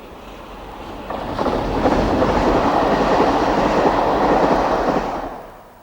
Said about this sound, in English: 37154 returns with the 1405 Cardiff to Bristol